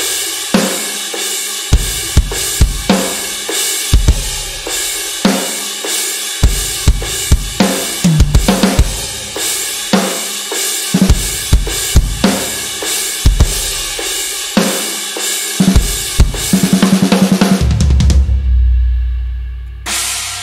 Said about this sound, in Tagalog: nag-load ako ng isang napakagandang plugin from GGD, which is One Kit Wonder Modern Fusion by GGD